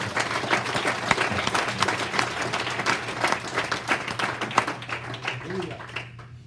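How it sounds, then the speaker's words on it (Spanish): A church congregation claps as an offering of praise during a leaders' conference, a lively, uneven patter of many hands with some individual sharp claps standing out, under a low hum and some voices, fading toward the end. "Dar una ofrenda de palmas al Señor."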